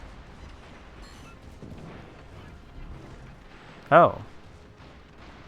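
Bismarck secondary battery guns firing in World of Warships: Legends, a single sharp loud boom standing out near the end over a low background rumble, with brief talk earlier.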